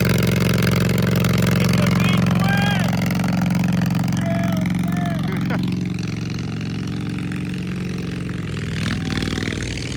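A Harley-Davidson motorcycle engine idles with a steady low throb, close and loud, while people talk over it.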